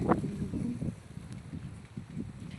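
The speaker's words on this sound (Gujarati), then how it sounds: "જોતા પવન કેવો હે" Strong wind outdoors at a temple buffets the microphone in a continuous low rumble, with gustier surges near the start and no clear talk.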